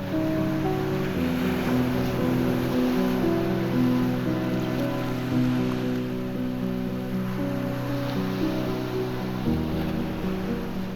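Surf crashing steadily onto a black volcanic sand beach, a continuous wash of breaking waves heard alongside a sustained tonal backing with no pauses.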